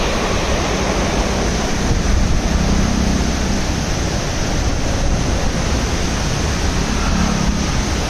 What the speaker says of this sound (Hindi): और यहाँ पर देख सकते हो पानी कितना तेज चल रहा है।